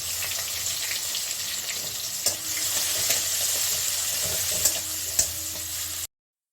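Half a large onion frying in hot oil spiced with cardamom and cinnamon: a steady, loud, broadband sizzle running throughout, with a few soft stirring clicks, stopping abruptly at the end.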